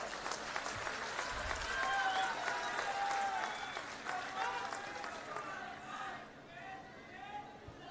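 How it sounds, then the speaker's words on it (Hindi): Crowd applause at a political rally in Manendragarh, where the Chief Minister inaugurated a new district, swelling loud and steady before thinning out, with voices and a shout rising through the clapping. "एक बार जोरदार ताली बजाओ"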